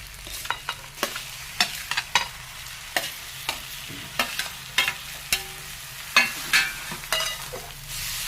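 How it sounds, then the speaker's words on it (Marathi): Boiled vegetables stirred and sautéed in a pan, with sharp spatula clicks and scrapes against the metal in an irregular rhythm over a soft background sizzle, close and distinct. "चांगली परतून घ्यावी"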